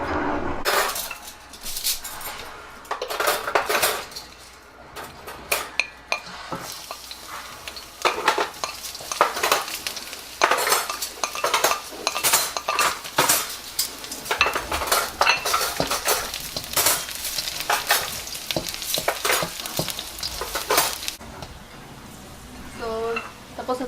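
Garlic stirred and frying in a hot pan for Filipino pancit canton, with a spatula or utensil scraping and clinking against the pan in irregular bursts over a continuous sizzle.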